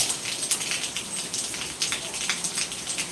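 Light but continuous night rain falling on a surface, a steady patter of close drops with small irregular taps and no letup.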